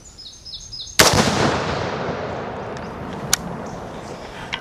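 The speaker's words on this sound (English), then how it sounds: "We're fixing to put a few rounds down range." A single loud gunshot from a Vietnam-era Colt rifle cracks out, then a long rolling echo decays across an open outdoor range, with a sharper distant pop later on and faint birdsong in the background.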